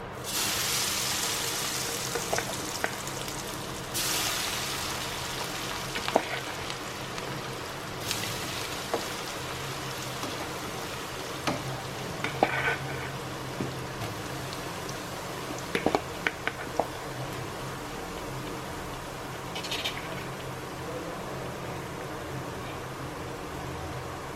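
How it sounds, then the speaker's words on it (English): Potatoes frying in heated oil for chilli potatoes give a continuous soft crackling sizzle, with occasional sharper pops and light clinks throughout. "The oil is heated. Now we'll fry these potatoes."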